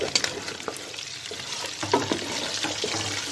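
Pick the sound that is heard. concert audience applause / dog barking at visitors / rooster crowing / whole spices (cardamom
whole spices (cardamom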